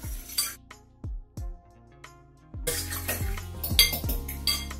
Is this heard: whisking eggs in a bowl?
yes